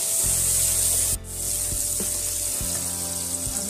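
Tomatoes sauté in hot oil in a pan for a Jain green sauce pasta, a steady soft sizzle with faint scraping of a spoon and a brief stir partway through.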